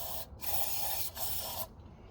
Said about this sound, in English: Has anybody ever tried wasp and hornet spray? Kills on contact, jet spray, non-staining.